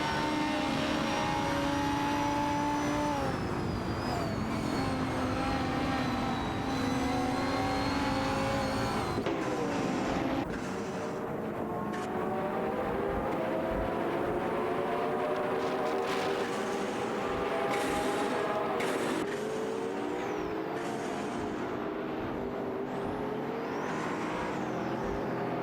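Lamborghini Murcielago and Ferrari 812 Superfast race cars scream around a track in an AI-driven video game race, continuous high-revving engine whine with shifting pitch, gear changes and passing cars, moderately distant and steady.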